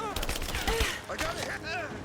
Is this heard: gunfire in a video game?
yes